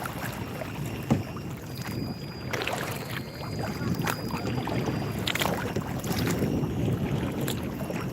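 Paddles dip and splash alongside a small boat on a lake while steady wind buffets the microphone, with scattered knocks and water sloshing throughout.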